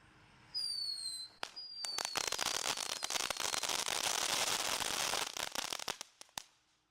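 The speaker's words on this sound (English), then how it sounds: "What's cool about these cheap fireworks too is there's so many different levels of effects" Cheap consumer fireworks fire in a dense, sustained barrage of loud cracks and pops lasting several seconds, preceded by a whistling fuse or rising tone, then tapering to a few last bangs.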